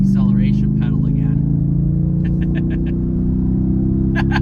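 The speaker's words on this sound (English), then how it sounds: "the dual exhaust out back reverberating on the back of the trailer is really what does the trick here" A Jeep Grand Cherokee SRT towing a trailer accelerates with a loud, steady engine drone from its dual exhaust, close and continuous while someone talks over it.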